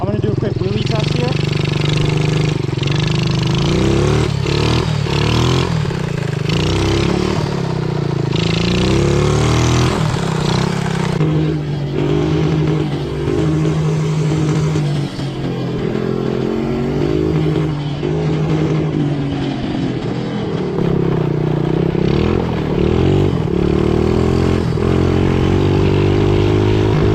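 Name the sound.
motorcycle engine revving during a wheelie test, run on Red Bull as oil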